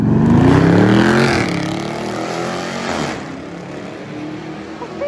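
An SRT Jeep engine revs hard and loud nearby, its pitch climbing before the roar recedes into a fainter fading rumble.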